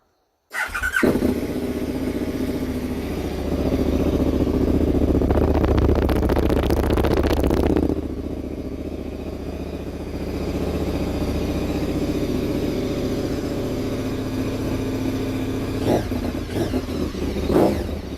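A KTM 1290 Superduke motorcycle with a Piperwerx exhaust idles loudly and close inside a garage, with a deep burbling rumble, a few sharp throttle blips and revs, then a steadier idle.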